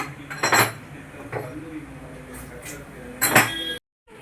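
A lid goes onto a cooking pot in a home kitchen with a few metallic clinks and clatters close by, the loudest near the start and end, while a voice talks softly underneath.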